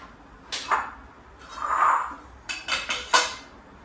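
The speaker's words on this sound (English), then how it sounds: "I use plain flour to dust and roll the dough." Samosa dough being rolled out on a floured surface, with a series of short knocking and clattering taps from the rolling pin and utensils against the board, spaced irregularly, close and moderately loud, with no talking.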